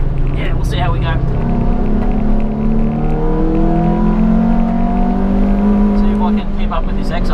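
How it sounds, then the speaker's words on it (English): Race car engine on a track at Wodonga Circuit, loud and close with steady harmonic engine tones holding high and bouncing at the rev limiter, continuous throughout. "Bit of a limiter bash there."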